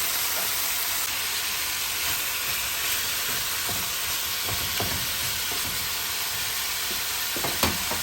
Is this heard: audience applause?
no